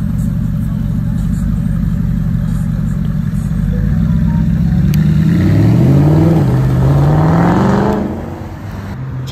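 A Porsche 997 GT2 on a street during a supercar sighting in Alderley Edge rumbles steadily, then revs up loudly with a rising engine note as it passes close by, and fades slightly at the end.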